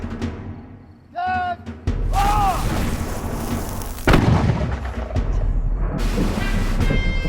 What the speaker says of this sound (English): OK, we'd like to fire the cannon. Cannons fire.